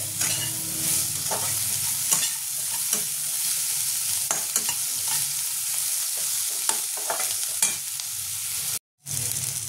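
Onion and brinjal fry in a pan with salt, a steady close-up sizzle of oil broken by the clatter of a spatula stirring and scraping at irregular moments, with no voices and one brief cut to silence near the end.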